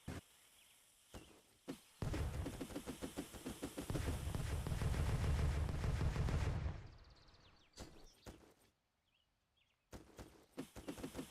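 Dynamite blasts go off in A Game About Digging a Hole: a fast, dense string of crackling detonations swells into a sustained low rumble, then gives way to a few scattered, separate thumps with quiet gaps between them.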